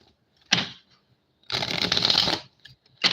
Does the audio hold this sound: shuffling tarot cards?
yes